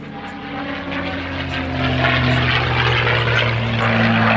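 A P-51 Mustang propeller fighter of World War II flies past at an airshow, its piston engine droning loud and steady and swelling slightly as it nears, with no voices.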